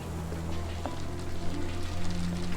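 Rain in the video game Sherlock Holmes The Awakened falls as a soft, steady hiss mixed with a low ambient hum and faint tonal game sounds, with no talking.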